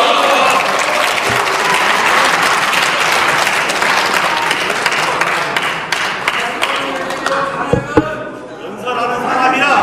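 Members of the National Assembly applaud loudly and steadily during a floor speech in the Korean parliament, with voices talking through the clapping before it thins near the end.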